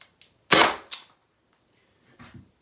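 A Byrna CO2-powered launcher fires a single sharp, loud pop up close, followed by a couple of small clicks and a faint rattle afterwards.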